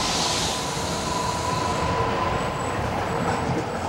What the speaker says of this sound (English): This is the Metro, Newcastle's gleaming new local railway system